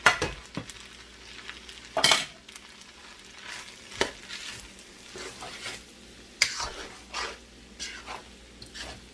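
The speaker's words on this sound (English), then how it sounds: "Then I'm going to add my eggs." Beaten eggs hit a hot pan for shrimp fried rice, giving a steady hiss with sharp scraping and stirring clatters at intervals, fairly close and moderately loud, with no talking.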